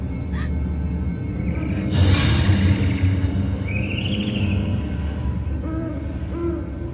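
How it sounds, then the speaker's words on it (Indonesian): An owl hoots a few times at a distance in a dark horror-film scene, faint calls sitting over a steady low rumble and hiss of background ambience. "Burung hantu."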